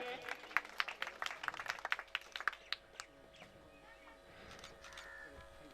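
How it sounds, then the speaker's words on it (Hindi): A small gathering welcomes a student at an award ceremony with scattered, sharp handclaps that thin out after a few seconds, faint and somewhat distant, with quiet background murmur and birds. "तालियों से स्वागत करेंगे।"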